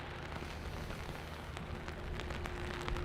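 Rain falling at Dublin Airport on a murky winter day, a soft, even patter of drops hitting surfaces with scattered sharper splashes, faint and continuous throughout.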